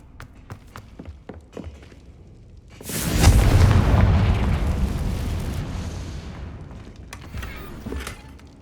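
A Confringo fire spell bursting in Hogwarts Legacy: a sudden loud booming explosion that swells and rumbles for a few seconds before fading, following a scatter of small clicks and taps.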